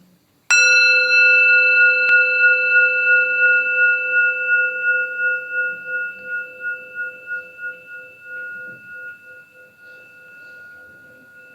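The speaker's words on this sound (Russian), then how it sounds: "Можно как в обычный колокольчик бить." A metal singing-bowl-like instrument is struck once like a bell, ringing out with a bright clear tone and overtones that sustain for many seconds, pulsing in a slow wavering beat as it gradually decays.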